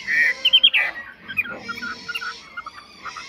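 A mi chuyền songbird in good condition sings loudly and close, pouring out bright, varied chirps, trills and whistled notes in quick bursts that keep going to the end.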